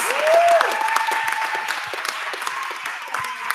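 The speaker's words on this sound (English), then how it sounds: "we could give a round of applause" An audience at a benefit concert breaks into steady, dense applause, many hands clapping together up close for several seconds, with a whistle rising briefly at the start.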